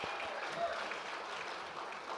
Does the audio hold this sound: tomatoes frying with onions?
no